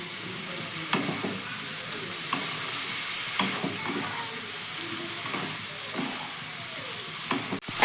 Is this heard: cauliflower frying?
yes